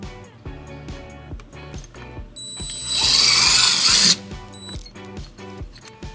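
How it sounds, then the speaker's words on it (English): A power drill with a 3/16 drill bit bores a hole while fitting a trailer wiring bracket to a 2011 Toyota Highlander, a loud steady whine of about a second and a half standing out against a rhythmic music bed. "using a 3/16 drill bit, we're going to drill our first hole"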